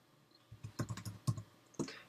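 Fingers tap out code on a computer keyboard, a short quick burst of close, soft key clicks in small clusters separated by brief pauses.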